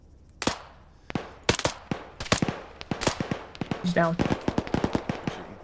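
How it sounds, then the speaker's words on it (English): Gunfire from hostage rescue team training outdoors, with sharp shots in irregular bursts and rapid strings, some loud and near, with brief shouted talk among them. "Shots from the south."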